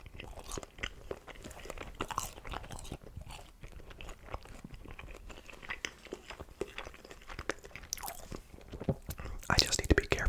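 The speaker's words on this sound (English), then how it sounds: "I love the crunchy, crispy crusts of pizzas." Close, quiet chewing of crunchy, crispy Papa John's pizza crust, with irregular crisp bites and mouth sounds continuing steadily, growing a little louder toward the end.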